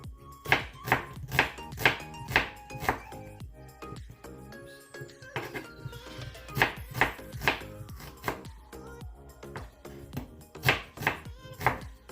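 A knife slicing onion on a cutting board for a spicy galunggong sisig, producing a steady series of crisp chopping thunks in quick groups, close and clear, with a brief pause midway.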